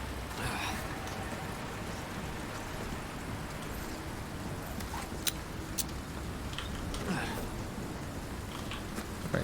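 Steady rain in the video game Resident Evil 4, a dense continuous hiss of falling drops with scattered sharper patters, even and moderate in level throughout.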